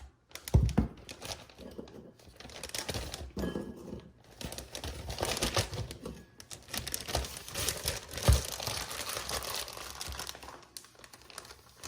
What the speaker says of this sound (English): take the Ziploc bag and put some of your Oreos into the bag